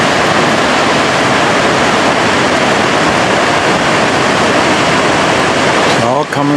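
Powerful glacier-fed Gelphus waterfall in Iceland, heard up close as a loud, dense, unbroken roar of crashing water that fills the whole scene until a brief disturbance near the end.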